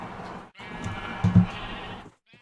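Sheep in the Minecraft Agrarian Skies modpack give one drawn-out bleat, clear and close, followed by a brief faint sound after a short gap.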